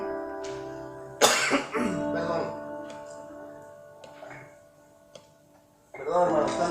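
Man preaching at a church service coughs sharply a couple of times near the start, with a throat-clear after, between stretches of his speech.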